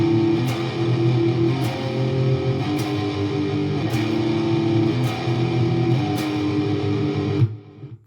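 Electric guitar plays the chorus riff of a song, a dense, sustained distorted chord pattern with regular accents about once a second, loud and alone before it stops near the end.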